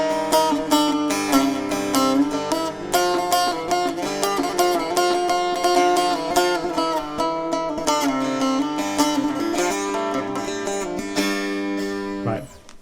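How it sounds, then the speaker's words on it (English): A long-necked saz tuned lower for its large body plays a fast plucked and strummed melody, its resonant metallic strings ringing close and alone before stopping abruptly at the end. "if I change that to the long-necked one, immediately you're going to hear a difference."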